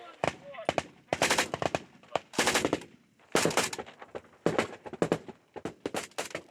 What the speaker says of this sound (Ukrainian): на цих нічних стрільбах ми стріляли трасерами